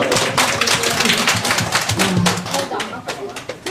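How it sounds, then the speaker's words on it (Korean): An audience of elderly residents at a Christmas performance in a care home claps in a loose, dense patter. The clapping is close and lively, with voices and chatter mixed in. "박수!"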